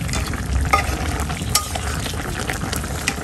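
Fish cooked with papaya simmering slowly in a pan, a continuous close sizzle and bubbling with occasional sharp pops and stirring sounds, no voices.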